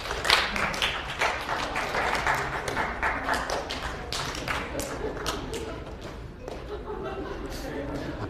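Lecture-hall audience at a Yale introductory psychology course clapping in a dense, scattered patter that carries on steadily for several seconds, with faint murmuring mixed in.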